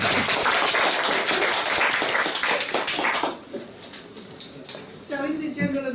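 Audience applause at a Toastmasters club meeting, a dense burst of clapping for about three seconds that then thins into scattered claps and room noise, with a voice starting near the end.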